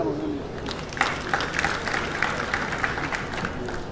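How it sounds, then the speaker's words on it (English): A crowd at a 39th Tarehe Sita address applauds the people of Greater Luweero, a steady wash of clapping at moderate distance with a few sharper claps and murmuring voices underneath. "We applaud them."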